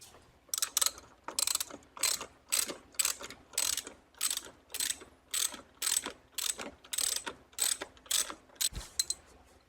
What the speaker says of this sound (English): I think I need to get the ratchet